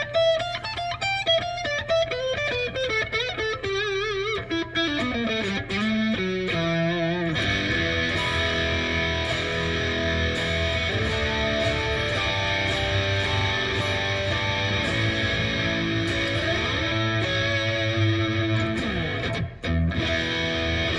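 Electric guitar on the neck pickup of an Eart GW2 headless guitar, with a warm, rounded tone, starting with picked melodic notes then settling into sustained distorted chords with effects.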